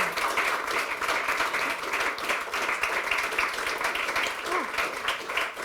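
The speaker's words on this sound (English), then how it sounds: "a big round of applause for these amazing inspirational women" An audience at a women in sport and business panel event gives the panelists a round of applause, with sustained, moderately loud clapping that continues evenly for several seconds.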